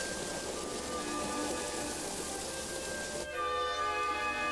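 Steady autumn rain falls in an even, close hiss that continues without a break, then turns slightly brighter and denser near the end, with no voices.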